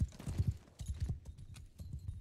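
Galloping horse hooves in Mount and Blade 2: Bannerlord multiplayer, a steady run of close, heavy clip-clop beats in quick rhythmic clusters, with faint game noise in the background and no talk.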